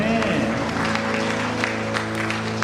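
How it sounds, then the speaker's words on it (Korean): A church congregation applauds during an Easter Sunday worship service, the clapping running steadily throughout beneath strong sustained musical tones that dominate the mix. "우리 다시 사신 신유를 위해 영광의 박수 올려주시겠습니다."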